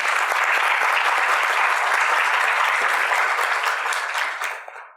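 Audience at a women-in-politics panel bursts into dense, steady applause that holds strong for several seconds before tapering off quickly at the end.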